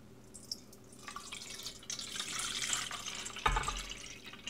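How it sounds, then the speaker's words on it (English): Three cups of water poured into a crock pot for a gravy base, heard as a soft, steady pouring and splashing that swells toward the end, close and fairly quiet. "So I'm going to add my 3 cups of water."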